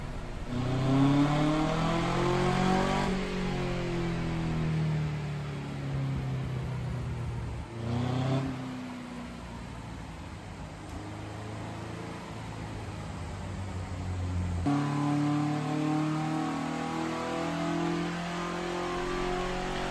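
A car engine revs hard through the range on a dyno, spitting fireballs from the exhaust, pausing between pulls, with a droning exhaust note rising in pitch under a steady background hiss.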